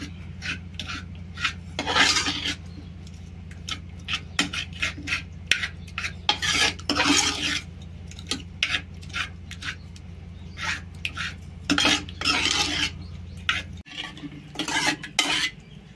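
Cooked dal being mashed and stirred in a steel pot with cucumber pieces, giving repeated close scraping and clinking strokes of a utensil against metal over a steady low hum, with a brief pause near the end.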